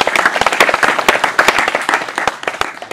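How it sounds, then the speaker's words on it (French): Applause from a church audience thanking the speakers at a Mass, dense overlapping hand claps at close range continuing steadily throughout. "Applaudissez pour eux"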